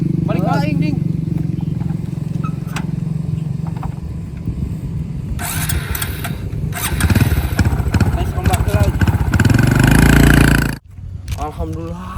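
A motorcycle engine starts and runs loudly up close, revving in bursts before cutting off abruptly near the end, with people talking over it in a Sundanese comedy sketch.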